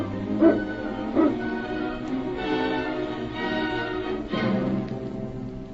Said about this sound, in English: Get the dogs up, King.